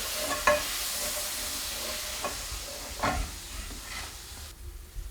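Whiskey flambés in a hot pan, giving a steady close sizzle and hiss punctuated by a few sharp clatters and bursts, fading quieter at the end.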